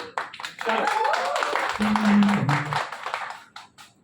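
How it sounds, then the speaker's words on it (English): An audience at a television show launch with actor Sudhanshu Pandey claps and cheers in scattered bursts, with voices and sustained musical tones mixed in and the noise rising and falling unevenly. "Can you give a loud cheer एक बार गाने से पहले everyone?"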